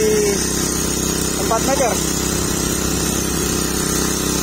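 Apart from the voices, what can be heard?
Alcon Mini machine pulling bore well drill pipe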